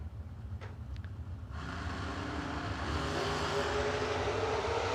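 A Chevrolet S10 launches at a drag strip, its engine note rising into a loud, sustained roar after a short idle, with a brief high whine just before the launch.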